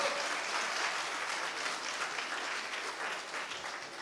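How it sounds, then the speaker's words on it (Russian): Boys in a youth congress audience clapping together: sustained, dense applause at moderate distance, steady and even throughout, gently fading near the end. "Какие бурные аплодисменты, а?"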